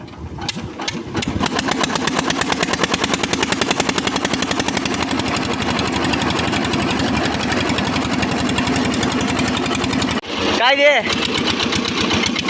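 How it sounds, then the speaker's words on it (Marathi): A small engine driving a finger millet (nachni) threshing machine runs with a steady, rapid rhythmic chugging close by, cutting out briefly near the end while a voice speaks over it. "Engine start."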